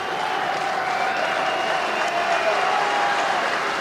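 A football crowd at the 1995 Scottish Cup Final between Camelon and Whitburn applauds as Derek Haston is substituted off, producing a dense, steady wash of clapping that holds at an even level throughout.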